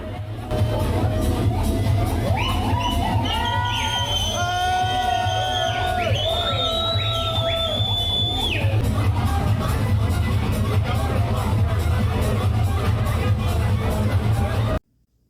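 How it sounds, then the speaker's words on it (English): A large crowd cheers and whoops in an alleyway around a street performer playing techno, with steady loud hubbub, shouts and overlapping voices throughout, the music's low bass pulsing underneath, ending abruptly. "we crossed paths with a performer playing techno in an alleyway that drew a large crowd."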